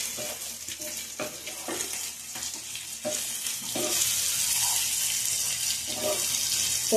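Chicken fries in a pan with a steady broadband sizzle while a utensil stirs it, giving repeated scraping pulses; the sizzle gets slightly louder and denser toward the end, with no voices.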